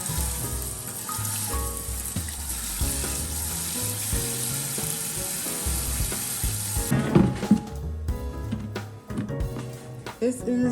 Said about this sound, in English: I'm gonna rinse it out now